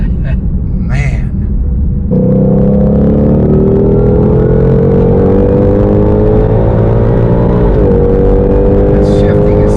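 A Shelby GT500 engine rumbles loudly from inside the cabin as the car pulls away, revs rising steadily through a gear shift with a brief dip, and a voice speaks briefly at the start.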